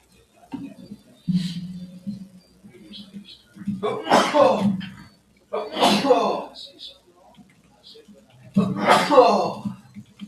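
A sharp sneeze bursts out, followed by a couple more sneezy bursts with quiet gaps between them. A voice hums or speaks softly in between.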